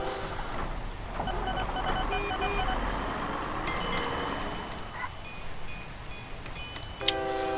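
A train rolls past in the transport simulation game OpenTTD, a steady rumble with tonal whistle-like blasts and bright chimes near the end, playing alone without talk.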